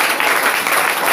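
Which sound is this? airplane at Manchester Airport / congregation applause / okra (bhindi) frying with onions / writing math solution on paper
congregation applause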